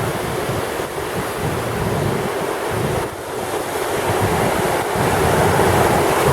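Steady, loud roar of water pouring over a dam on the Siverskyi Donets river near Eskhar, Ukraine, a continuous broadband wash with no voices, slight surges in intensity throughout.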